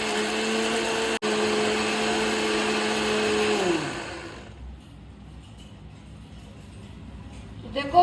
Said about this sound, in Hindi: ये सब मैं अच्छे से मिक्सी में पीस लूँगी।